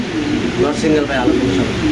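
Mundian pigeons coo in low, throaty rolls through a steady murmur of surrounding birds, the calls close and continuous across the moment.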